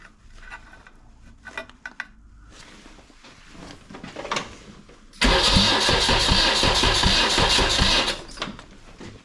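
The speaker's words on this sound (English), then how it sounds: "Turn it over again, we'll just have a look at the spark plug." A Honda EF Civic with a swapped SR20DET engine cranks over in a workshop. Faint clicks and handling sounds come first, then a loud, sustained churning burst of about three seconds that cuts off abruptly.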